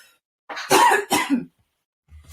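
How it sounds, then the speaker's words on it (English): Two quick, harsh coughs close up, one right after the other, followed by silence. "excuse me, because I'm about to cough"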